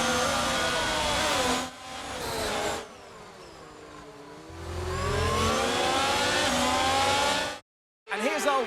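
A Ferrari Formula 1 car engine in the F1 22 racing game, at the Hungary circuit, hums and whines close by with a steady, shifting pitch that dips and rises, then cuts out briefly near the end.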